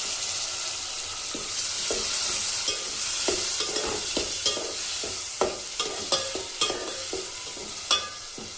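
A spoon scrapes and stirs cut tomato pieces into a sizzling drumstick curry, with irregular clanks against the pan over a steady hiss that ends in a few sharper knocks.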